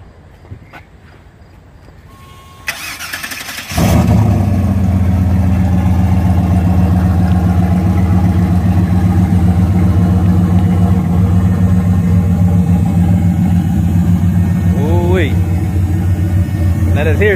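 A turbocharged G-body car's engine cranks briefly, then fires up into a loud, deep, sustained roar close by, with a couple of revs near the end and people talking over it.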